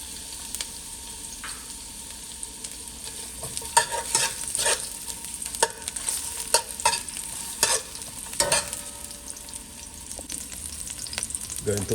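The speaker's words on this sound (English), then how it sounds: "I'm going to add my onions." Onions frying in hot coconut oil in a pot while cooking Jamaican curry goat, a continuous sizzle broken by scraping stirs and clanks of a utensil against the pot, with no talking.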